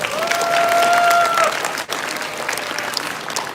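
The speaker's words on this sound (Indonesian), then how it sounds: "Tepuk tangan dulu untuk kita." An audience at a campus welcoming and inauguration event applauds loudly, a dense burst of clapping with a whistling tone over the first half, then continuing at a lower, steadier level.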